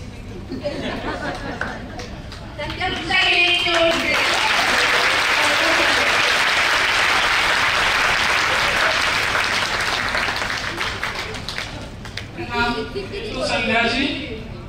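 An audience at a book inauguration event applauds for Sandhya, with sustained loud clapping and crowd chatter throughout, and voices talking over the start and end.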